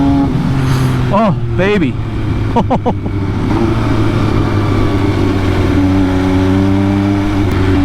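An MV Agusta Brutale 800 RC motorcycle revving hard, its engine pitch rising and dropping sharply through several quick upshifts and downshifts, loud and close with wind rush, and a rider's voice briefly exclaiming over it.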